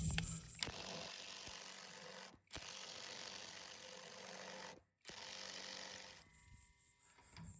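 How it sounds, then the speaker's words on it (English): Continuous fast clicking of a ratchet turning a nut on a 1970 GMC C2500 truck, close by, in several long bursts separated by brief pauses. "All right, ratchet it is."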